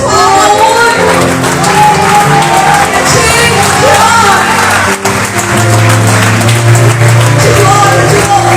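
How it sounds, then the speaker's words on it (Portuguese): A church congregation at an evening communion service bursts into loud, sustained applause mixed with shouts and whoops, while music plays underneath throughout. "Você pode dar uma salva de palmas."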